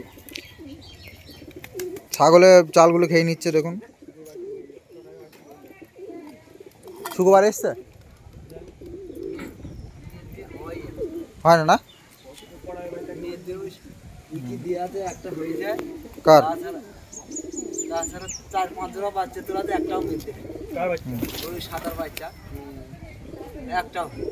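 Pigeons, including a green-hued rock pigeon, coo in bursts among a kept flock, with someone talking over much of the sound and faint chirps scattered throughout.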